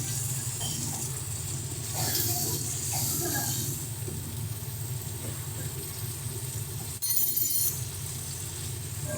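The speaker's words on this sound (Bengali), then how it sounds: "একটু সামান্য পরিমাণে জল দেবো, যাতে মশলাটা কড়াইয়ের গায়ে লেগে না যায়।" A little water is poured into a kadai of frying spices and softened tomato for a prawn and potato dish. It makes a steady rushing hiss, with a fresh burst near the end.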